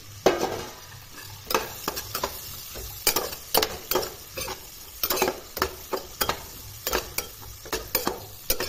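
Spiced vegetables and peas fry in a pan under a low sizzle while a utensil stirs and scrapes in a quick, uneven rhythm of many sharp clinks and scrapes, close and fairly loud, with no voices.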